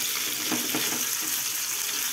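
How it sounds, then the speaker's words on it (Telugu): Fish pieces frying in a pan of hot oil for fish biryani give a steady, close sizzling hiss, with a few brief crackling bursts early on and no talking. "మరి ఇంకో సైడ్ కూడా ఫ్రై చేసేసుకుందాం."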